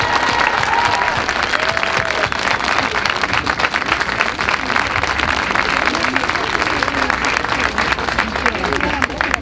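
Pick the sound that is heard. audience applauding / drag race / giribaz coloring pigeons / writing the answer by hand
audience applauding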